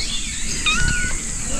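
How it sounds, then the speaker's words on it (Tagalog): A pet kitten at a farm campsite in Quezon Province meows in a short, high, rising-and-falling cry close by, with steady outdoor background noise behind it. "Ang cute ng kuting nyo."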